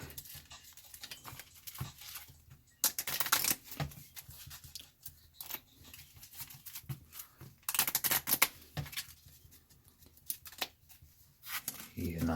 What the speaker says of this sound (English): So we'll just shuffle these up and get right into the play.